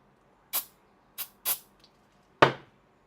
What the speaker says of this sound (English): I could spray this with activator.